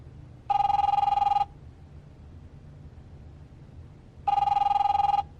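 Telephone bell ringing in The Wolf Among Us video game, two loud electronic ring bursts about four seconds apart over a low background hum.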